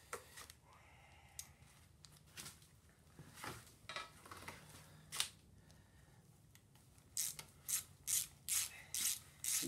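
A hand ratchet with an 11 mm socket loosens the valley pan bolts on a 7.3 IDI diesel engine during a teardown. Quiet, close bursts of clicking repeat, with a quick run of sharper ratcheting strokes near the end.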